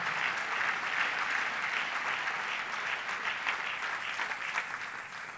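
Steady, dense applause from a large church congregation, sustained and loud throughout with no pauses.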